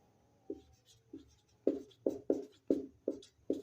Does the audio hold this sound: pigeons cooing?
no